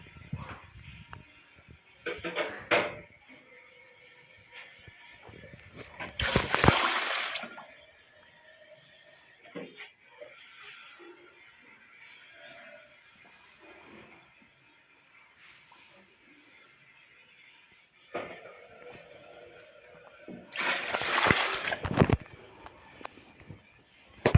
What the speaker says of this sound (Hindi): फिर इसके बाद हम लोगों ने इसके अंदर पानी डाल देना है।